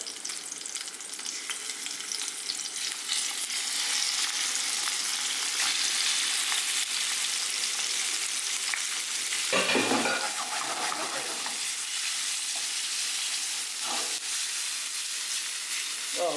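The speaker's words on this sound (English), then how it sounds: "that the oil is nice and hot, I'm going to throw in our leeks. Get that with a bit of a fry on the go." Leeks and crayfish frying in hot oil in a pan for a Thai curry, a loud continuous sizzle with stirring scrapes and a brief clatter midway, no voices.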